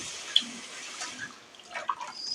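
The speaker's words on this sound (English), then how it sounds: "So I think I'm okay with the wash" Fresh Bambara beans are washed in water, making soft sloshes and a few sharp drips and splashes in a quiet room, fairly close and low in level.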